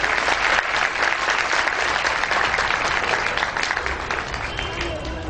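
An audience at a religious gathering bursts into loud, dense applause, steady clapping from many hands continuing throughout, with voices faintly underneath.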